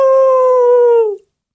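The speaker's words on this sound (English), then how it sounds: "I added the howl, I'm guessing, because he's a wolf." A single sustained wolf howl, added as a sound effect, holds one clear, loud tone for about a second before sliding down and cutting off into silence.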